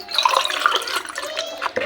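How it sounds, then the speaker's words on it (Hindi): Water poured from a jug into a glass, a close, steady splashing gush lasting under two seconds with a brief break near the end. "तो सबसे पहले ये जग से हम भरेंगे गिलास में"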